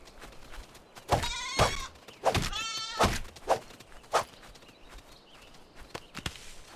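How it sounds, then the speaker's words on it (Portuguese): A goat in the video game Die Young bleats twice in clear, wavering cries, surrounded by soft footstep-like thuds and a few sharp clicks, with no voices. "Podia matar essa cabra aqui nesse canto, né?"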